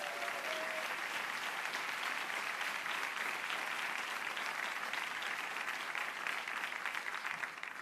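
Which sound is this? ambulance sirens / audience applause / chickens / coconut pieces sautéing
audience applause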